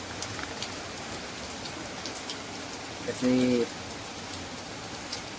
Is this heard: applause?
no